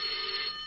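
A telephone bell rings in a short, loud, steady burst with a bright metallic tone, heard alone before anyone answers.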